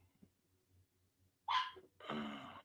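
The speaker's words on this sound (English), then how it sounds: "If this dog don't shut the hell." A dog close by gives two loud, sharp barks in quick succession after a few faint snuffles and breaths, with no talking over it.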